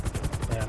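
A quick burst of rapid gunshots in GTA 5 roleplay, several sharp shots fired in close succession at moderate loudness within under a second.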